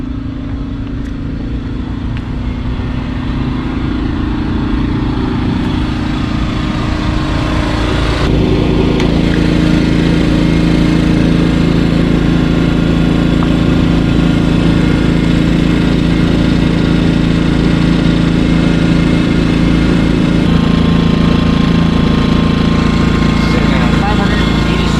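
A portable generator engine runs at an RV boondocking campsite on a cool, breezy night, giving a loud, steady mechanical drone that holds without a break for the whole stretch.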